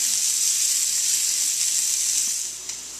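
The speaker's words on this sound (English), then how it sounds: "we're going to let them cook for just a couple of minutes so that the shallots will really start to caramelize in the bacon grease" Shallots frying in bacon grease give a steady, loud, close sizzle and hiss that stays even for a few seconds, then eases slightly near the end, with no voices.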